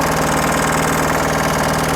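A Captain 200DI LS 4WD mini tractor's small diesel engine runs steadily with a loud, rapid rhythmic chugging, close up and unbroken throughout.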